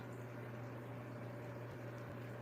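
Water streams steadily from the filters of a goldfish aquarium, an even, continuous gurgling hiss over a low pump hum, moderately close and without speech.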